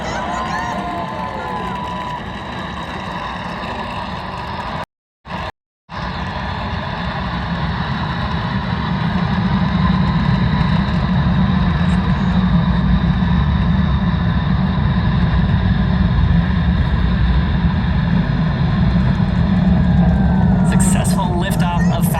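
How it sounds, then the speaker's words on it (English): SpaceX Falcon 9 rocket lifting off from Space Launch Complex 40 at Cape Canaveral, Florida, its Merlin 1D engines giving a steady, heavy low roar that builds and holds for the whole stretch after a brief dropout. "Successful liftoff of Falcon 9 from Space Launch Complex 40 at the Cape Canaveral Space Force Station in Florida"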